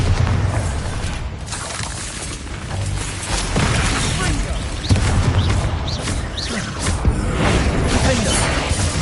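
A Bombarda spell explosion in Hogwarts Legacy: a sudden booming blast with crackling debris, set inside a steady, loud wash of combat noise and game music that continues throughout.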